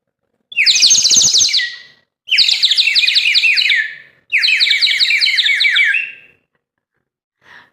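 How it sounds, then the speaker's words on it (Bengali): A ceramic bird whistle plays three warbling, trilling bursts that sound like birdsong, each lasting a couple of seconds and separated by short pauses. "এটা তো একটা চীনামাটির পাখি দেখলে তো মনে হচ্ছে চীনামাটির পাখি কিন্তু এটা পাখি না এটা কিন্তু বাঁশি"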